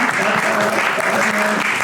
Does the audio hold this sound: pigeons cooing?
no